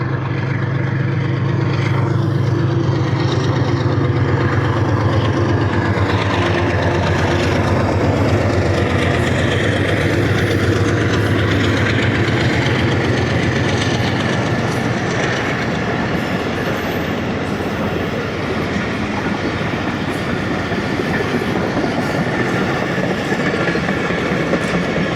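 A train rolls through Ranpethani railway station at about 44 km/h, a loud, steady rumble with continuous clickety-clack of wheels over rail joints and occasional faint squeals, filling the whole stretch without talk.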